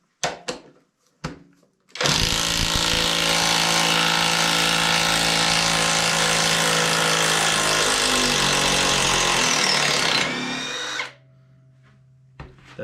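A Greenworks power tool backing out a stubborn fastener, a loud continuous high-pitched motor whine lasting about eight seconds, straining and dropping in pitch as it spins down, preceded and followed by brief handling clicks.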